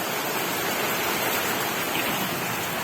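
Heavy downpour fills the air with a dense, loud, constant rushing hiss, close and unvarying; no distinct thunder clap stands out and nobody talks.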